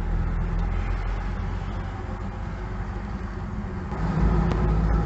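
A car drives along a foggy bypass road. A steady, close engine and road rumble fills the whole stretch and grows slightly louder toward the end, with no voices.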